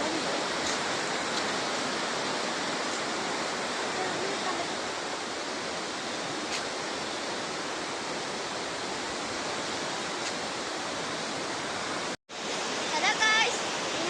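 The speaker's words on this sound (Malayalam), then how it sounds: "ഈ വെള്ളം അവിടുന്ന് ഇവിടുന്നും ഒഴുകി പോകുന്നത് മലയിൽ തട്ടിങ്ങനെ ഒഴുകി പോകുന്നത് നിങ്ങൾക്ക് ഇവിടെ കാണാം. ഭയങ്കര ഒഴുക്കാണ്" Iruvanjhi river water rushing past a hill after rain, a dense, steady roar of flowing water that fills the whole stretch and breaks off briefly near the end, with no clear talk.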